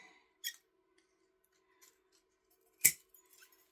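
Scissors snip through a bonsai branch during pruning, two crisp close cuts separated by a pause, with faint handling rustles in between and no talking.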